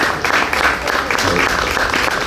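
Audience applause at an evening music event in Leskovac, a steady wash of many hands clapping close by, filling the short moment evenly.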